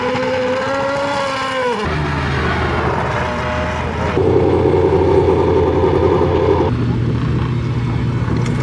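Lancia race car rolling out of a festival paddock, its engine a loud, close, rumbling idle that shifts in pitch and grows fuller midway, with a voice briefly heard over it.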